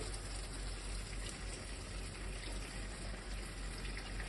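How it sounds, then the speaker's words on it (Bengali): Hot water poured into a pan of magur fish curry, a steady continuous splashing gush that holds at an even level from start to finish with no voices. "আমি এর মধ্যে একটু গরম জল দেবো"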